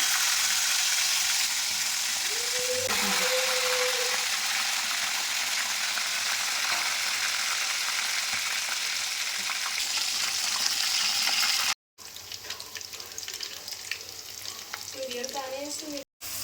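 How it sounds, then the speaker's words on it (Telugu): Boiled chicken deep frying in oil produces a continuous, even sizzle and bubbling that stays loud and close throughout, broken by one brief cut near the end, with no talking. "ఉడికిన చికెన్ని ఆయిల్లో డీప్ ఫ్రై చేసుకోవాలి"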